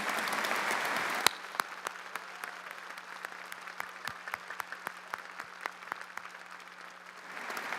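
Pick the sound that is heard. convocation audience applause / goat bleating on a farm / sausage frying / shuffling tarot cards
convocation audience applause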